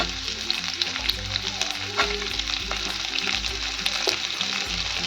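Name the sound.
onion and garlic cloves frying in a pan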